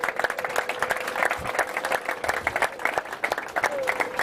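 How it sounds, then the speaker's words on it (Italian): Applause from the audience at an Italian amateur football awards gala, dense and sustained clapping throughout at moderate volume, with a faint voice passing beneath it. "Un applauso a tutti."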